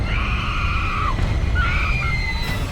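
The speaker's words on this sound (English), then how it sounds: "Then she screams." A woman screams in an episode of the TV series Supernatural, two long high-pitched wails separated by a brief break, loud over a noisy, rumbling soundtrack.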